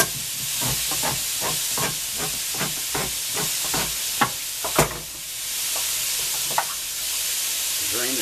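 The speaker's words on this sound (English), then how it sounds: "Watch that sausage cook." Sausage sizzling in a pot while red beans and rice are being made: a steady, close frying hiss runs throughout, broken by a series of sharp metallic clanks and scrapes, probably stirring or can-opening, with no one talking.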